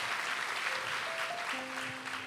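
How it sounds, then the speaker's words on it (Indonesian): Congregation applause at a worship night in Cirebon, a steady wash of clapping from a crowd lasting the whole moment, with faint sustained tones rising beneath it. "Berikan tepuk tangan bagi Tuhan."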